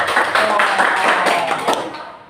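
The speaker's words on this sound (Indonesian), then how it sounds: "Ini nanti tepuk tangan dulu buat kelompok 1 ya" Students clapping in a classroom for the first group after it gives its answer: a short, lively burst of hands that fades out toward the end.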